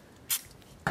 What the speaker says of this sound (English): I'll take a penetrating spray and just give the reel a light spray over